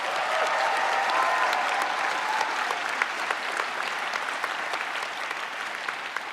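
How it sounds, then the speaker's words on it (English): Graduates at a George Brown College convocation ceremony break into sustained applause, a dense, even wash of many hands clapping from a large crowd with no speech over it. "give yourself a round of applause"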